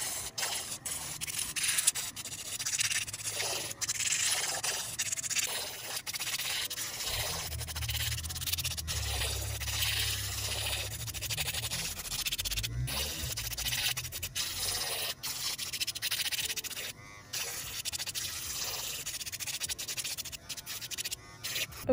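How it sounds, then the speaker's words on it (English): A fine grit sanding band buffing the shine off polygel nail tips makes a steady close scratchy rasp, with short strokes and brief pauses throughout and a lower whirring stretch in the middle. "I'm just going to take my fine grit sanding band and I'm going to remove the shine from all the nail tips"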